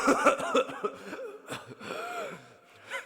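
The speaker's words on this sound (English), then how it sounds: "this is the cough take." A recorded take of vocal coughs, gasps and throat sounds comes in short irregular bursts with wheezy breaths between them, close and moderately loud.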